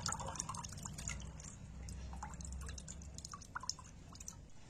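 A cabbage is lifted out of a bowl of salt water in a kitchen, with soft, quick drips and trickles falling back into the water over a low background hum.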